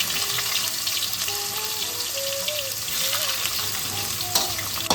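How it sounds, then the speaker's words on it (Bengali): Bitter gourd frying in hot oil, the same oil used before for lentil dumplings, makes a loud, dense, continuous sizzle and crackle close by, with faint thin tones drifting over it. "ওই তেলেতে আমরা উচ্ছেটাকে ভেজে নিচ্ছি।"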